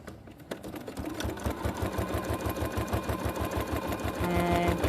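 A sewing machine stitches fabric along a raw edge with a fast, even mechanical chatter, close and steady, running the whole time and picking up slightly near the end.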